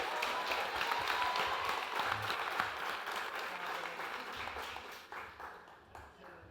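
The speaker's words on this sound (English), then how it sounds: "let's give a giant round of applause to Matthew Wheatley with Wheatley Realty Group" An audience at a real estate masterclass applauds a panelist from Wheatley Realty Group, fairly faint, dense clapping that gradually tapers off, with some voices underneath.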